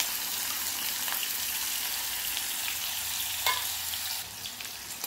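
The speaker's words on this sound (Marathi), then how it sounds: "त्यानंतर मी इथे एक छोटासा कांदा हा कापून घेतलेला आहे बारीक, तो पण आपल्याला यामध्ये फोडणीला घालायचा आहे" Finely chopped onion fries in oil with cinnamon and cloves, making a soft, continuous sizzle with light stirring scrapes, heard close and steady with no voices.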